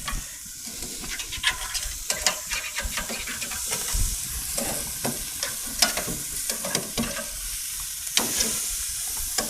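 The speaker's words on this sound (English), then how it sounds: "let's flip this steak" A steak sizzles and fries steadily on a grill alongside vegetables, with repeated scraping clicks and clatters of metal tongs loosening and flipping the meat, close and continuous with no talking.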